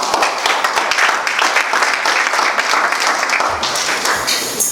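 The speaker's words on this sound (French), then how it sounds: "acclamons pour la gloire de Dieu" A church congregation breaks into steady, dense applause for nearly five seconds, loud and close, with many hands clapping together in a continuous roar.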